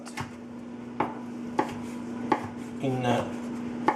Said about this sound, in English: Now we're gonna start to cut our ham.